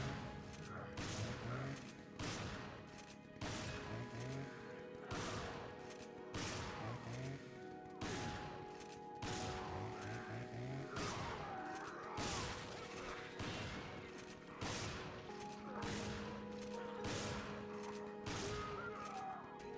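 Repeated shotgun blasts from the Ithaca in Resident Evil 5, steady booming shots every second or so layered with game music and impact effects, loud and continuous without talk.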